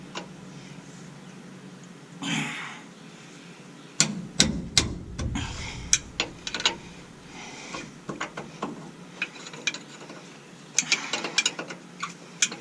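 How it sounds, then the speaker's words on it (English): A wrench works the nuts off the driveshaft straps of a 1966 Chevy C10, giving close, irregular metallic clicks, ratcheting and clanks in scattered bursts against a quiet garage background. "All you got to do is pull the nuts off of the straps."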